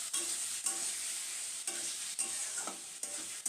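Raw mango pieces stirred and fried in a pan, a steady bright sizzle broken by several soft scraping strokes of the spoon, close and continuous with no voices.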